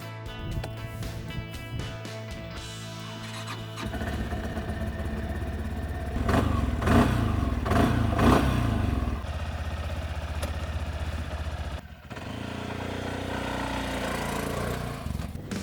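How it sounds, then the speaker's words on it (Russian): The 300 cc, 21 hp, liquid-cooled, fuel-injected single-cylinder engine of a Bison Explorer 320 4x4 ATV idles close by, then revs up and settles back to a steady running drone, with no voices. "И здесь это 300-кубовый, 21-сильный, одноцилиндровый инжекторный мотор жидкостного охлаждения."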